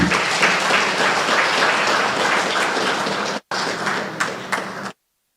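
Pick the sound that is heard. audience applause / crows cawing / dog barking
audience applause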